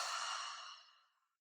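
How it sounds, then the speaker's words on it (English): One long, deep exhale is pushed out through the mouth during a morning yoga session, breathy and close, fading gradually to silence. "We'll begin by taking 3 big cleansing breaths"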